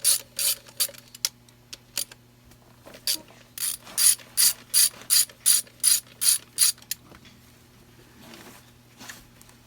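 A hand ratchet loosens bolts on the fuel injection pump of a 1977 Wanderlodge bus, giving a close series of sharp, evenly spaced clicking bursts in a quiet garage, with a faint steady hum underneath.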